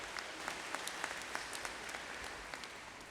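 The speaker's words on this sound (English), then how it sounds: "Let's give them a big round of applause." A graduation ceremony audience applauds, a steady wash of many hands clapping at moderate distance with a few sharper individual claps standing out.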